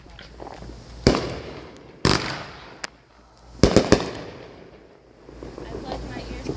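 Fireworks burst overhead at a Pioneer Day celebration in Ogden, Utah, with loud sharp booms in irregular clusters, a couple of single reports and a rapid double-triple crackle, with crowd murmur and voices in between.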